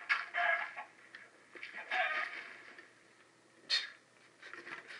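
A Minecraft chicken clucks in short, scattered bursts, fairly faint and close, with quiet gaps between the calls.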